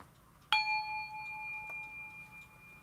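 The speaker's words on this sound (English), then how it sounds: "at the sound of the bell, let's get it" A single bell strike during a livestream rings out with a clear metallic tone that hangs and slowly fades over a couple of seconds. A faint second tap follows in a quiet room with no speech.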